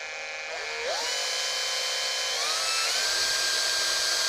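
A steady electric drill whine driving a Kawasaki Z1A 900 engine oil pump, rising in pitch as it speeds up, then holding a high, even drone below full speed, loud and close with no talking.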